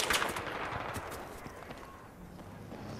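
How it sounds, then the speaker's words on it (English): Gunfire in the video game Battlefield 3 on the Caspian Border map, a fairly faint, steady spatter of shots and distant bursts with no talk. "Who's shooting at us?"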